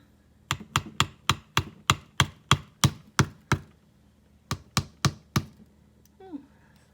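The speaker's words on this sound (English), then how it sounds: "now I have this cute little egg that my coworker brought to me. I'm gonna crack it" A small egg is tapped again and again against a hard edge to crack its tough shell: a dozen crisp, close knocks in a steady rhythm, a short pause, then four more sharp taps.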